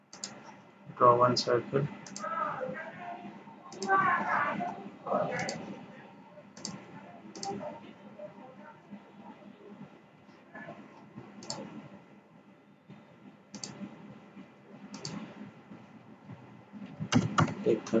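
Sharp mouse clicks tick out irregularly, close and crisp, while drawing a sketch on a face in CAD software, interspersed through steady instructional speech.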